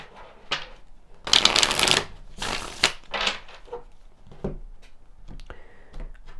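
Tarot cards are shuffled and drawn close up, bursts of riffling and flicking card noise with pauses between, quick papery slaps and rustles, no voices.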